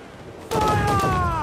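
Ship cannon volley in the Assassin's Creed Black Flag naval battle game: a sudden loud burst of booming fire kicks in after a quiet half second and keeps rumbling, with voices and ringing tones mixed in.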